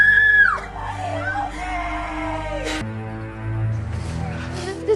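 Loretta, a woman in a film, lets out a loud, high scream at the start that breaks off quickly, followed by muffled shouts and a tense background score.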